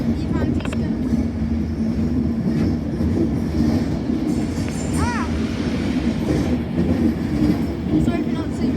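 An Avanti train rolls through Glasgow Central station with a continuous loud rumble and rail clatter. A brief squeal rises partway through, and voices can be heard in the background.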